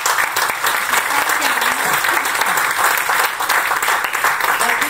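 A lecture audience at a Franciscan studies school session applauds loudly and continuously, a dense even wash of clapping with some low murmuring beneath.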